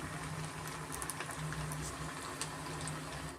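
Rava vade cooking in oil on a medium flame, giving a steady, soft bubbling sizzle that holds at an even level throughout, with no voices.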